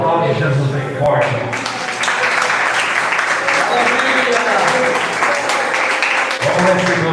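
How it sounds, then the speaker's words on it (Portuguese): Congregation in a church applauding loudly and continuously, with a leader's voice speaking over the clapping at the start and again near the end. "Vamos aplaudir Jesus bem forte."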